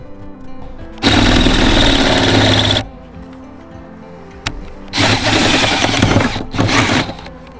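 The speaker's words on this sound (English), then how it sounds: "I'm going to drill down through here." A power drill bores a hole through a campervan body for LED light bar wiring, running in two loud, sustained bursts separated by a quiet pause.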